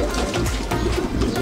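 Low, throaty pigeon cooing repeats in soft rolling bursts, close by, with faint background noise.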